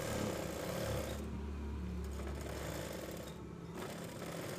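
A sewing machine with a hemming foot stitches fabric in a steady, fast whirring run, pausing briefly twice before continuing.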